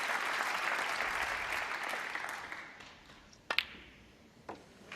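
A snooker crowd at the Masters 2014 applauds John Higgins' century break. The clapping is steady and fills the hall, then dies away, and a few crisp ball clicks follow.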